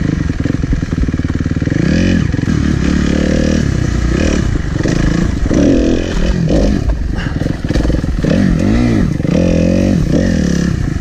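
An endurocross dirt bike on a private practice track revs and bogs repeatedly, its loud engine rising and falling in short bursts with rattling and scraping as it works over obstacles.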